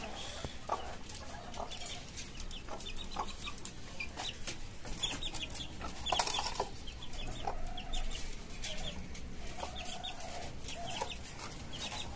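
Many 15-day-old native chickens in a cage farm cluck and chatter continuously, a busy flock close by with steady overlapping calls and no clear speech.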